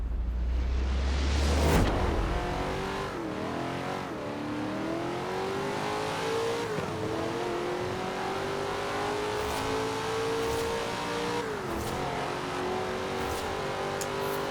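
A D-class race car in the Forza Horizon 4 video game roars through a race. The engine revs climb and drop in repeated gear-shift sweeps, loud and close, with occasional faint tire squeal and no voices.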